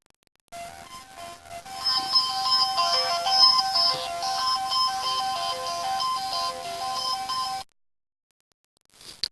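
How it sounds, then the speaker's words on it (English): A phone rings with a bright melodic ringtone that plays steadily for about seven seconds and then cuts off abruptly, alone in a quiet room. "Let me answer the phone."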